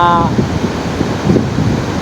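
Strong waves and gusting wind at sea at night during the amihan monsoon, a steady loud roar of surf and wind buffeting the microphone, with a brief tonal whine at the start.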